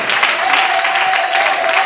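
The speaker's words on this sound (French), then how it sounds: "Est-ce qu'on peut acclamer le Seigneur?" A church congregation at a Sunday worship service applauding together, with loud, dense and continuous clapping close by.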